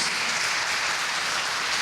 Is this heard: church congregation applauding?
yes